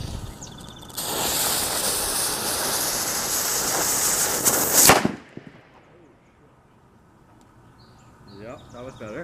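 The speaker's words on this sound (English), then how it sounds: "I loaded up with more flash powder and a steel BB at a can full of water" A mini 22 caliber cannon loaded with flash powder fires a steel BB into a can full of water: a loud, sharp crack after several seconds of strong broadband noise, then a quick decay into quiet with faint sounds near the end.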